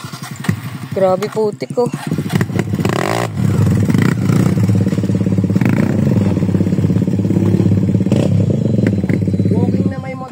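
A motorcycle rides a muddy mountain trail on a Malarayat traverse, its engine chugging and revving close up with clattering and scraping, while someone speaks briefly over it.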